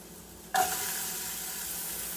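Ginger and onions land in a hot pan for a creamy squash, tomato and lentil soup, bursting into a loud sudden sizzle that then settles into a steady frying hiss with no talking.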